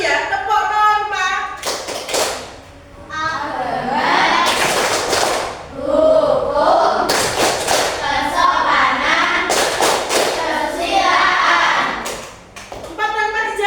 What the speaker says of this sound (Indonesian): Tepuk norma.